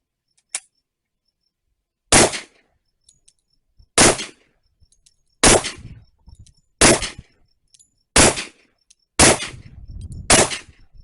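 Rock Island Armory Tac FS HC 10mm pistol fired at an outdoor range: seven sharp, loud single shots, roughly two seconds apart after an opening pause, each followed by a short ringing decay, with no voices.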